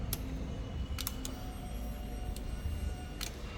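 A motorcycle's fuel pump, on a bike left unused for three months, clicks as the ignition is switched on: a handful of sparse, sharp ticks over a steady low hum, fairly quiet.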